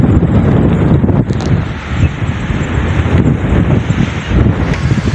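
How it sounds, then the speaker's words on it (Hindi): Strong, cold wind buffets the microphone on a hilltop above Abbottabad, a continuous loud roaring rumble with gusty surges throughout and no talking. "यहाँ पर तो तेज और ठंडी हवा है काफी।"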